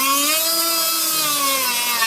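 A grinder works off two small tabs with a loud, steady high-pitched whine that drifts slightly in pitch, continuous and close throughout.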